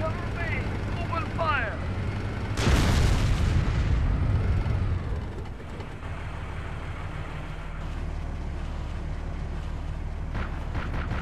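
High-explosive rounds burst in the Arma 2 video game, a loud booming blast with a long rumbling tail, followed by a steady low engine drone.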